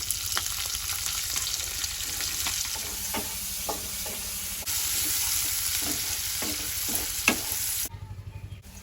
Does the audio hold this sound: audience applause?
no